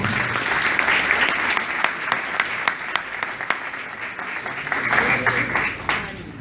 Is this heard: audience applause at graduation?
yes